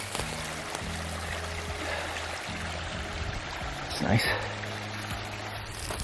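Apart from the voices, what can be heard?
waterfall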